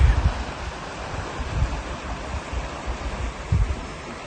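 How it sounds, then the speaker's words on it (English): Steady rushing water with low rumbling surges from Salt Creek flowing nearby along the Genesee Valley Canal, muffled by some wind noise on the microphone; no talking. "And this is the Salt Creek."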